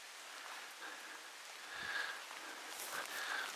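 Rain falling steadily in a forest during a hunt, a faint, even hiss of drops with a few louder patters, no voices.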